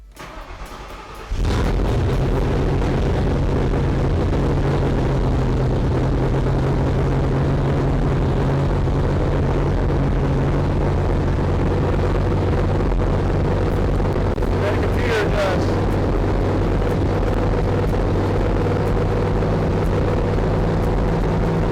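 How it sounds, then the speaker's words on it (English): Factory Five Cobra roadster with exhaust fitted firing up for its first start, a sudden loud engine roar that then holds a steady, droning idle throughout. "It's time to fire it up and see what it sounds like with exhaust on it."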